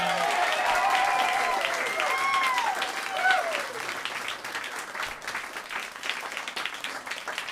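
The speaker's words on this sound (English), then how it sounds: "if you could just give a round of applause for your wait staff real quick" A comedy club audience applauds the wait staff, steady clapping with crowd noise that swells early and gradually thins out, while faint whistle-like tones drift over the top.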